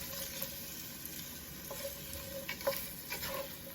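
Chopped onions and celery sizzle gently in olive oil in a pot for a keto chicken stew, a soft steady hiss broken by occasional light clicks from stirring, close but quiet.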